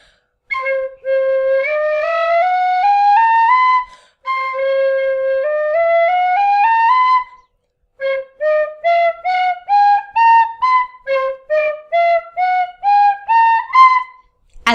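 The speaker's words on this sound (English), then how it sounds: "Beginners often tend to just simply blow into the whistle like this." A tin whistle blown plainly by a beginner with no tonguing, giving long sustained notes in two rising runs and then a series of short separated notes, loud and close with nothing else heard.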